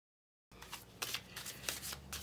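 Symbolon cards being shuffled for a reading, a close, quiet riffle of rapid papery flicks that begins abruptly after a moment of silence and continues in short bursts.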